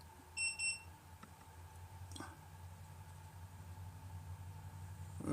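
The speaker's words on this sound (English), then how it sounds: "I gotta check that beeping and grab my coffee." Electronic beeps from a battery charger, a short burst of high, evenly spaced tones early on, then a steady background hum.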